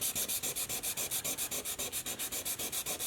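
Rapid back-and-forth scratching of 1000 grit sandpaper over a raised paint blob on a touched-up painted surface, a close, steady rhythm of short rasping strokes, about eight per second.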